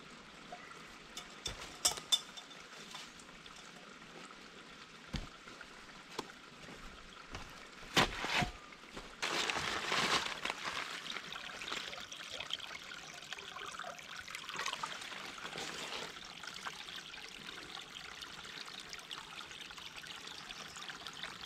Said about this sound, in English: So this is the other creek closest to the campsite.